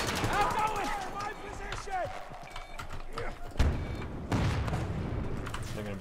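Gunfire and a grenade blast in the shooter Battlefield 2042, with bursts of shots, then a heavy boom near the middle followed by rumbling, under a voice and game chatter.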